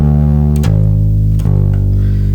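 A deep, sustained walking bass line shifts pitch twice, sliding between notes with an approach note from above or below into each new chord tone, played clearly with no talking.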